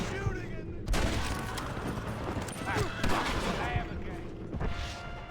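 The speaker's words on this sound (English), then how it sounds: "Stop shooting at me!" Gunfire in Red Dead Redemption, sharp gunshots cracking over a busy game soundscape, several spaced reports with louder hits around the first and third seconds, voices talking underneath.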